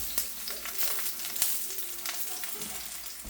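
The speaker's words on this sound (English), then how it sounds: "while the eggplant's cooking, we're going to add oil" Eggplant frying in a pan of olive oil, a steady close sizzle with light crackles and occasional stirring throughout.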